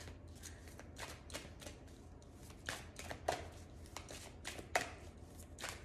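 A deck of cards being shuffled by hand, a rapid series of crisp riffling bursts in quick irregular succession, close and fairly quiet, with no talk over them.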